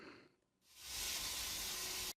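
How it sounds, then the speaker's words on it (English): Steam escaping from a manhole: a loud, continuous rush starts abruptly after a brief quieter hiss and holds steady until it cuts off. "steam escaping from a manhole, which is here."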